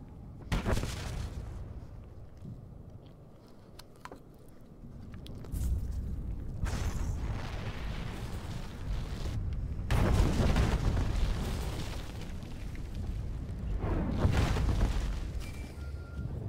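Explosions and heavy blasts from the video game Star Wars: The Old Republic, set during Imperial Agent missions on Corellia, rumbling in several loud bursts with sustained low booming between them.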